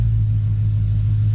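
A straight-piped Dodge Hellcat rolls past with a loud, steady low engine rumble and a deep exhaust drone that holds for a brief moment, close by and with no talk over it.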